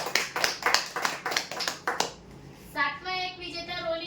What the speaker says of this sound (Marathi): जोरदार टाळ्या देन